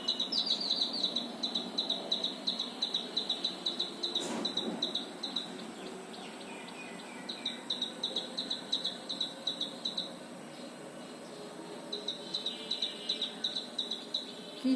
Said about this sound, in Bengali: কি সুন্দর পাখির গান।